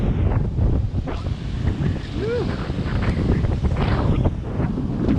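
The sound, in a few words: strong wind by the sea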